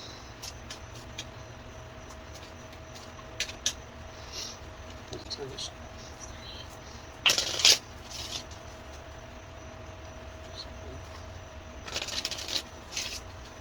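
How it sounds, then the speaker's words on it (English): Astrology cards are shuffled and pulled in two brief rustling bursts over a quiet, humming room, with a voice talking softly in the background. "Let me pull one of the astrology cards."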